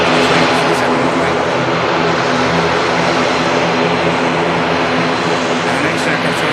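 A Pegasus Airlines jet waits on runway 07 at Manchester Airport, its engines giving a loud, steady broadband roar that holds close and continuous throughout.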